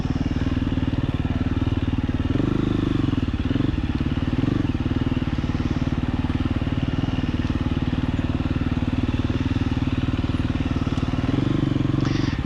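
A dual sport motorcycle crawls along a narrow marked forest trail in first or second gear, its engine a steady, close, loud low drone with no letup.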